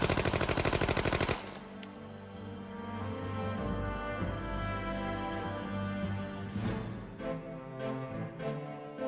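Military machine guns firing, a rapid rattling burst of automatic fire at the start, followed by a loud, dense stretch of heavier gunfire and explosions with scattered shots near the end.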